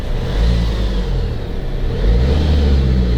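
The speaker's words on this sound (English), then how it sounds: "That little engine coming to life." A 2019 Vauxhall Mokka X Elite diesel engine revs from inside the cabin with the window partly down: a steady, loud low rumble that swells briefly and then settles.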